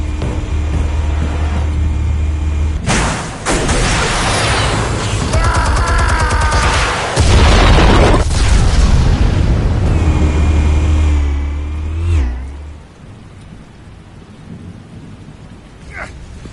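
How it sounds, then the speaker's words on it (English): Explosives detonating in the Batman Telltale game: a sudden loud blast followed by a long, thundering, debris-filled roar, then a second heavy burst before the rumble fades into quieter background. "Explosives armed. Fire when ready."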